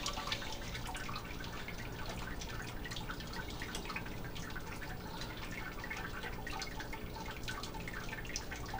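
Wort trickles slowly through a grain bed during a Grainfather brew day, a faint, continuous watery drip and patter with no voices.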